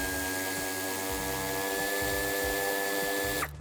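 A power tool whirs steadily while removing the central nuts on the bumper of a 2015-2019 Audi A4 sedan, a continuous motor whine with low ratcheting pulses, then it stops abruptly near the end.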